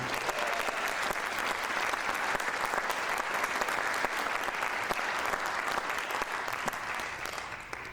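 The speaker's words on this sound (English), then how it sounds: "So another round of applause for our percussionists." Steady, dense applause from a concert audience for the percussionists at a high school midwinter concert, an even wash of clapping throughout that fades slightly at the end.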